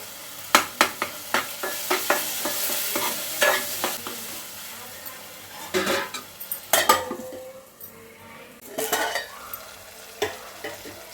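Tomato and ginger paste frying in oil in a pan, with brinjal pieces about to go in, while a utensil stirs and scrapes the pot in repeated clanking strokes over a steady close sizzle, with no talking.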